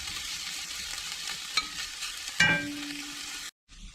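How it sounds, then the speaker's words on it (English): Potatoes for soup sizzle and crackle steadily in a pan on a wood cook stove, with a couple of sharp metallic clinks of stirring before it cuts off. "got that frying up nicely"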